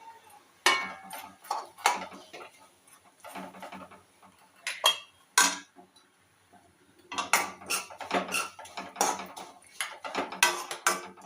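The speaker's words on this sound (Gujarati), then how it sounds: "આમાં જ પાછી આપણે સેવ શેકી લેવું" Sev vermicelli being roasted in a pan, with sharp clinks and scrapes of a spoon against metal in irregular clusters, separated by quiet pauses, close and fairly loud, with no talking.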